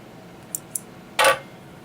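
Electrician snips cutting through Cat5e network cable: two light metallic ticks, then one sharp, louder crunching snip, close and alone in a quiet room.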